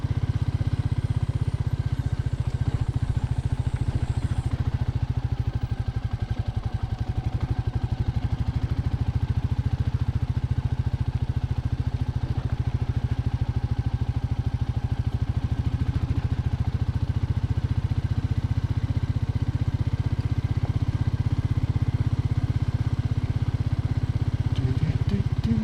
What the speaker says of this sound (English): this is the famous Meteor second gear off-road chug